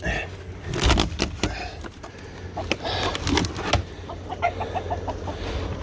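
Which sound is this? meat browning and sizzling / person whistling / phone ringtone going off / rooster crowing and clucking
rooster crowing and clucking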